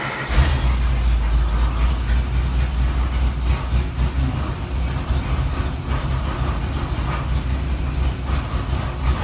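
A GM LS 408 V8 fitted with an LS3 intake manifold, a 102 mm throttle body and stock LS3 injectors roars steadily and loudly on a test run, a dense, unbroken rumble with no talk.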